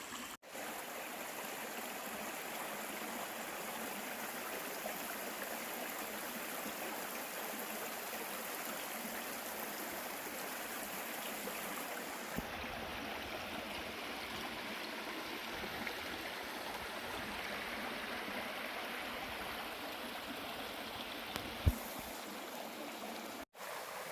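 A stream flows at a hiking-trail water crossing in the mountains, a steady, close, full-band rush of running water that continues for the whole stretch with only tiny splashes and no talking.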